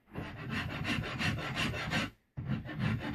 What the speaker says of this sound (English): the most rasping I'll do is with this guy on the fine side